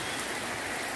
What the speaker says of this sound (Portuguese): A chuva tá pegada.